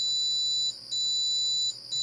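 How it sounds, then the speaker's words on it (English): Steady high electronic beeping tones in a studio hold almost continuously, with two brief dips in level, no voices present. "we're hearing beeps in the studio here"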